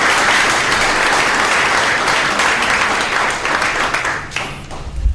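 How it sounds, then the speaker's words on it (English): Sustained audience applause for a young performer, dense steady clapping from a large crowd that thins slightly toward the end. "could we give another round of applause to this multi-talented young man?"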